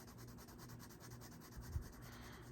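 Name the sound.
scratchy colored pencil coloring on paper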